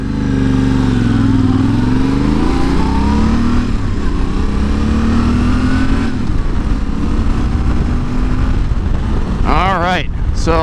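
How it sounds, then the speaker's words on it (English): A 2021 Yamaha Tenere 700 motorcycle rides on a road with a loud, steady engine drone, rising and falling as the rider accelerates, along with constant wind noise. "This is my 2021 Tenere 700 and we are headed out right now to do some final testing on the Camel ADV anti-bobblehead kit"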